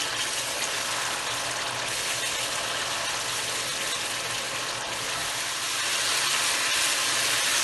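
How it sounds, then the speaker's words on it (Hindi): Yogurt sizzling and frying in a hot pan while cooking aloo gosht, a steady broadband hiss and crackle that holds continuously and fairly loud throughout, with no talking. "दही डाल के भी थोड़ा सा भूनेंगे।"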